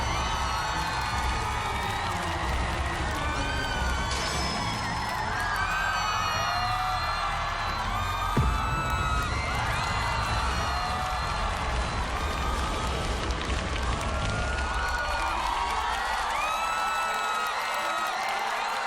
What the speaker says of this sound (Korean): 임영웅 박수로 맞아주십시오.